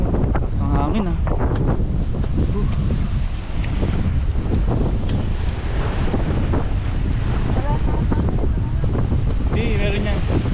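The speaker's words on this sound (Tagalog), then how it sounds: "Lakas ng hangin ah." Strong wind blows hard against the microphone while climbing toward a hilltop on Jomalig island in Quezon, a steady roar with voices talking underneath.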